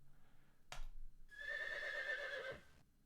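A horse in a circus-themed point-and-click video game gives a loud, high whinny lasting over a second, preceded by a short sharp click.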